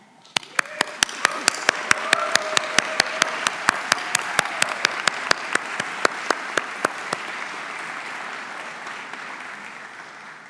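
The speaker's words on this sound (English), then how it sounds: "Graduates, would you please join me in a round of applause for all the Swinburne staff?" Graduation-ceremony audience applauding Swinburne University staff, a full hall of clapping that begins with a few sharp individual claps, swells into steady broadband applause and slowly fades toward the end.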